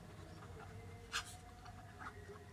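A pen writing by hand during a chemistry lesson makes soft, quiet scratching strokes, with one brief sharper scrape in the middle and faint room noise around it.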